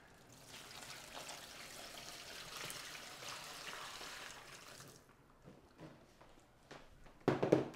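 Water poured over 11x14 inch cyanotype prints during rinsing, a steady broad splashing trickle for about five seconds that then thins to scattered drips and small splashes, ending with a brief louder clatter.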